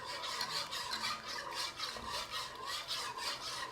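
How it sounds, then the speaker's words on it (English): A whisk rasps and scrapes rhythmically against a pot, beating Dijon mustard into a creamy Tuscan chicken sauce over low to medium heat; quick, repeated strokes sound close and fairly soft, without any voices. "we'll just whisk that in until it thickens"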